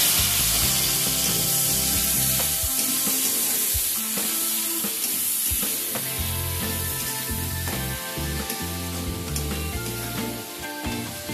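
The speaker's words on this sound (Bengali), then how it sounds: "দিয়ে আলু আর পেঁয়াজটাকে অল্প কিছুক্ষণ একটু ভেজে নেব।" Salted potato and onion slices frying in a pan, with a loud continuous sizzle and repeated scraping and stirring strokes of a utensil throughout.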